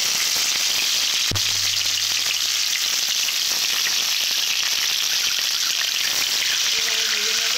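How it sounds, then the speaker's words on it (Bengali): Whole tomatoes, green chillies and onion fry in hot oil in a pan with a constant, dense sizzle and hiss, one sharp knock early on, no talking. "এভাবে ভেজে নেব টমেটোটাকে।"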